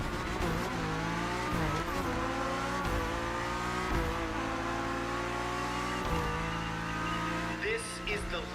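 BMW M4 racing in the video game The Crew Motorfest, engine revving hard through repeated upshifts with rising whine and brief tire squeal, loud and close, with faint talk underneath.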